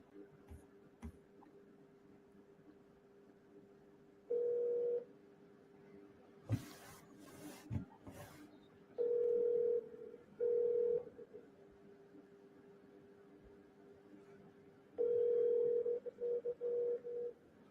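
An outgoing phone call rings back: a steady line tone with repeated ringback bursts at regular intervals, plus a few clicks and beeps, no one speaking.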